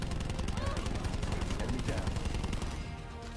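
Sustained automatic gunfire in Call of Duty Black Ops 4 on the Madagascar map, a dense continuous rattle of shots close up that cuts off near the end.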